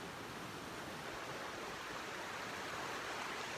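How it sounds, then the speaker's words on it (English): A noisy creek on a homestead, its water flowing in a steady, dense rush that holds even throughout, close by and with no voices. "Hanging out down here by the creek, which is noisy"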